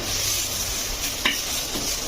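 Ambadi bhaji masala paste stirred and sautéed in a pan, a close, steady sizzle with one sharp scrape of the spatula midway through.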